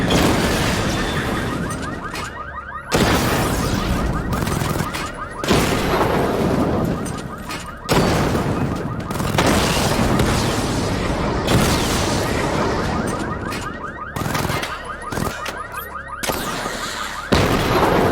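The Batmobile firing missile barrages in Batman Arkham Knight, with a string of sharp blasts and explosions at irregular intervals over droning vehicle and game noise, loud and close.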